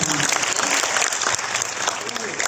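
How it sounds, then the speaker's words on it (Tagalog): Audience applause at a mayoral oath-taking ceremony in Taguig, offered in thanks to the Lord: dense, steady clapping from a large crowd filling the whole stretch, with voices murmuring underneath. "dapat lang naman ibigay po natin ang palakpak ng pasasalamat sa Panginoon"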